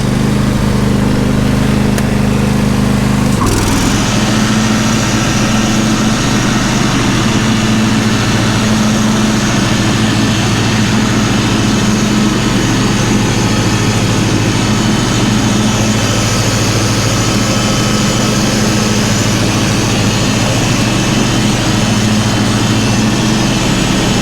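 A John Deere D140 lawn tractor with a repaired 48-inch mower deck runs steadily after a brief lower start, its loud, continuous engine drone and deck whir holding close and unbroken with no talking.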